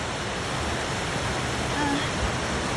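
A waterfall in a snowy forest gives off a steady, full-bodied roar of rushing water that stays even and unbroken throughout, with no voices heard.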